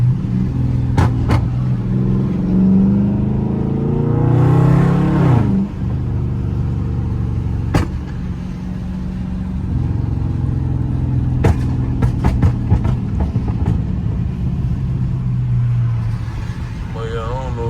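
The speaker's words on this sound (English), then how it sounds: "Give y'all boys a little pull, man. That car, speed up." A blacked-out Dodge Charger Scat Pack accelerates hard on a rainy road, its engine rising in a strong, continuous roar with wet tire hiss, heard from inside the car as the driver talks over it.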